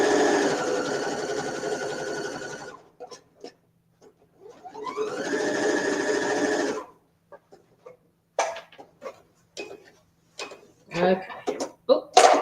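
A sewing machine stitches a quilt in two loud, close, rapid bursts of a few seconds each, followed by scattered clicks, taps and handling noises.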